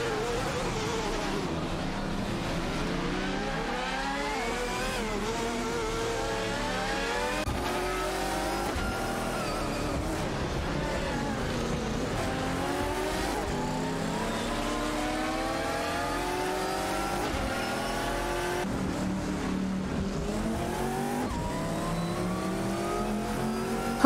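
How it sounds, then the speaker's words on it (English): Race cars in an AI racing video game accelerate and rev continuously, several engines whining and shifting pitch as they pass, loud and steady throughout with no talk. "Automobile dashing away."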